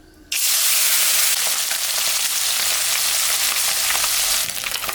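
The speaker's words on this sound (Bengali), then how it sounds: "মাছটা এখন আমি ভাজবো।" Fish seasoned with salt and turmeric hits hot oil in a kadai with a sudden onset, then a loud, steady sizzle and spitting that carries on evenly with no talk over it.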